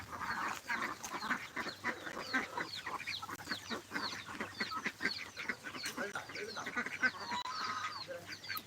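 Farmyard ducks and chickens keep up a steady chatter of quacks and clucks for several seconds, many birds calling at once at moderate distance with no pause.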